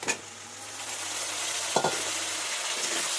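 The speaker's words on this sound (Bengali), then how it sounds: "এবার আমি টমেটোগুলো দিয়ে দেবো" Tomatoes added to a pan fry with a steady close sizzle, with a couple of brief stirring scrapes against the pan.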